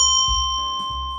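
A single handbell rings out clearly, its bright tone sustaining and slowly fading over soft low thumps.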